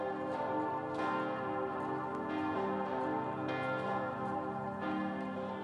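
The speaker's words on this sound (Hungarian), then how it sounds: "Harangszó hirdette a pravoszláv karácsonyi liturgia kezdetét a belgrádi Szent Száva templomban." Church bells of Saint Sava church in Belgrade ring for an Orthodox Christmas liturgy, overlapping strikes repeating about every second with long ringing tones, steady and moderately distant, no voices.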